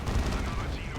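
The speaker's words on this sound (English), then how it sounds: "Assault Cannon" A Space Marine Assault Cannon fires in Dawn of War 2: Retribution, a dense, roaring burst of rapid gunfire with low rumbling booms, loud and continuous for its full second.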